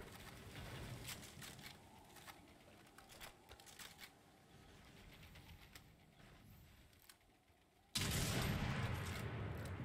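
Sniper rifle shots in a Fortnite collegiate match, a few sharp reports amid scattered game effects, faint at first, then a louder sustained burst of action near the end.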